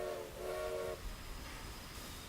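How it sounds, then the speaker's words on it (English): A train in Forza Horizon 4 passes with a brief horn blast at the start, then a steady rolling rumble, distant and fairly faint. "that train can do 100 miles an hour"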